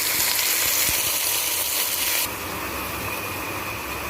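Chicken sautéing with onion and garlic in a pan for tinolang manok makes a steady loud sizzle that drops to a softer frying hiss partway through, with a few faint stirring knocks and no voices.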